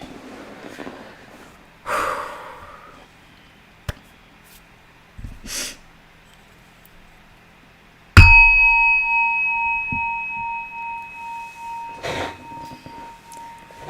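A single meditation bell is struck and rings out clearly, its pure tone decaying slowly over several seconds. Soft breaths and sniffs come before and after it in an otherwise quiet room.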